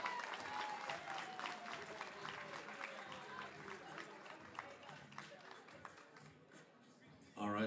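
A bodybuilding-festival audience at the Arnold Sports Festival Pro-Am claps steadily after an awards placing, a dense wash of applause under a continuous crowd murmur and a drawn-out announcer's voice, loudening sharply again at the very end.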